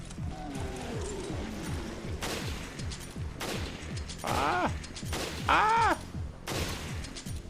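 Gunfire in the Resident Evil game cracks out as several sharp shots spread across the scene, mixed with repeated game sound effects, creature noises and a short shout.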